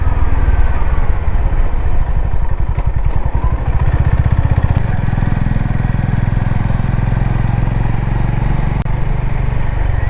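Motorcycle, a Yamaha MT-15 or similar bike, ridden along a hilly road in Purulia, with a steady loud engine drone and wind rumble throughout and no talking.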